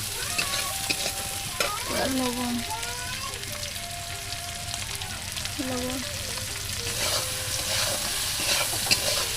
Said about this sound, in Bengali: আমার টমেটো আর পেঁয়াজ ভালো করে ভাজা হয়ে গেছে